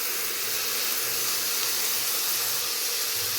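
Tomatoes hitting hot oil in a pan with sprouted fenugreek seeds give a steady, dense hiss that runs unbroken throughout and has no talk over it.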